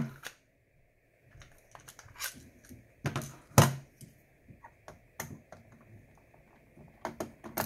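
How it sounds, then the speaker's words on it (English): A Phillips screwdriver removing the front screw from a PlayStation 4 during a disc drive repair, with sparse close clicks, small ticks and scraping taps scattered over several quiet seconds. "my Phillips head to get this front screw here"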